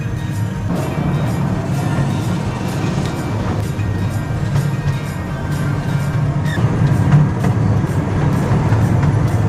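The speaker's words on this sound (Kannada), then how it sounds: "ಇಲ್ಲಿ ಇವಾಗ ನಾನು ಕೂತ್ಕೋತಾ ಇದ್ದೀನಿ ಪ್ಯಾಕ್ರೋಬ್ ಸ್ಟೇಷನ್ನ ಮಿನಿ ಬುಲೆಟ್ ಟ್ರೈನ್ನಲ್ಲಿ." A mini bullet train ride at Phoenix Adventure park in northern Thailand, heard from a seat on board as a steady low rumble and rolling hum with faint rattles throughout.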